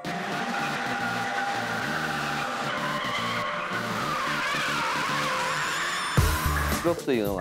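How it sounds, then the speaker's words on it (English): Car tires squealing hard in a long continuous drift, loud and sustained over engine noise, with a sharp burst and shifting squeal near the end. "I listen to the squealing sound of tires"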